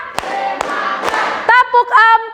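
A group claps in a counted clap routine, a few loud separate claps mixed with children's voices shouting along.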